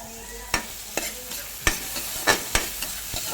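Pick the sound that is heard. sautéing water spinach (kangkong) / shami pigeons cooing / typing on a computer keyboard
sautéing water spinach (kangkong)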